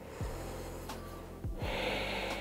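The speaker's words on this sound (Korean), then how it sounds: "천천히 숨 마시고요." A slow, deep inhale through the nose during a full-body stretching routine, drawn in steadily and close over about two seconds, with a brief sniff-like onset and a fuller breath later.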